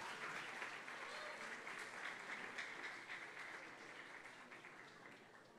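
A church congregation applauds during a harvest festival service, a faint, even wash of many people clapping that slowly tapers off.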